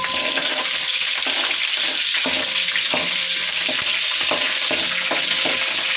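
Curry leaves, green chili and garlic frying in hot oil as the base for a fish curry, giving a loud, steady, close sizzle and crackle that runs without a break, with no talk.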